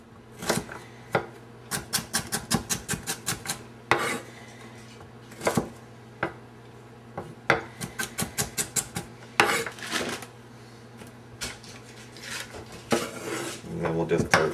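Knife chopping carrots on a cutting board in rapid bursts of sharp, evenly spaced taps separated by short pauses, close and clear with no talking.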